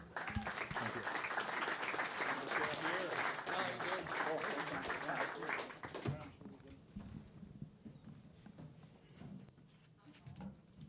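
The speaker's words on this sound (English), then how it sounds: "Clap it up for Brandon." An audience applauds after a talk on creative finance, with dense, steady clapping for about six seconds before it fades and gives way to quieter room noise and a few voices.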